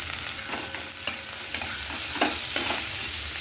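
Carrots, chopped garlic, onion and capsicum fry in a pan under a constant close sizzle, with a few sharp scraping knocks of a spatula stirring them.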